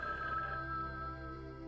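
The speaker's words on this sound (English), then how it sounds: "Alright, the phone's ringing." A telephone rings inside the horror game Without Escape, a steady electronic bell tone sounding once with a sustained buzz, fairly loud and alone with no voices over it.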